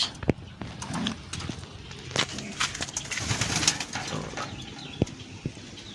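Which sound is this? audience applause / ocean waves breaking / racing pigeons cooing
racing pigeons cooing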